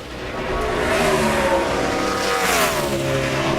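A NASCAR Cup race car engine screams at high revs through a qualifying lap, loud and continuous, its pitch rising and falling as it drives through the corners.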